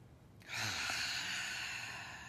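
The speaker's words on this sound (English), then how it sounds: "So we're going to stop, take a deep breath," One long, deep, breathy exhale or sigh, close and fairly soft, with no talking.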